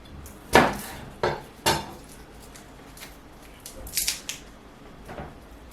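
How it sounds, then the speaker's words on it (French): A knife works garlic cloves on a kitchen board: a few sharp, separate knocks and taps, close and fairly loud, with softer clicks between them and no talking. "Pour nettoyer l'ail, on fait de cette manière."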